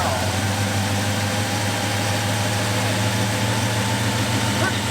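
A 1973 Plymouth Scamp engine idles steadily with a low, loping rumble after its first start since 2004, running continuously close by while people talk over it.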